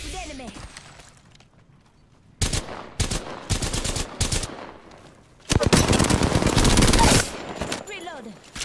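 Bursts of automatic gunfire in Apex Legends, several rapid volleys separated by short pauses with a long loud burst near the end, close and sharp.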